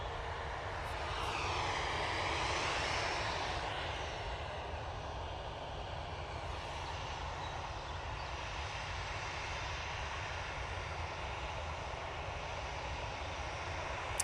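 A jet airliner rolls along the runway at Edinburgh Airport, a sustained engine roar that swells slightly early on and then holds steady at a distance, with no talking.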